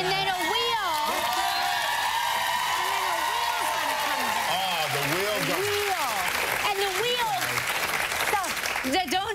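A live television studio audience applauds during a morning talk show, dense sustained clapping throughout with a voice speaking loudly over it.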